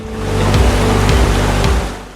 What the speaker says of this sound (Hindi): पत्थरों के ऊपर से गिरता हुआ ये साफ चमकता हुआ ठंडा पानी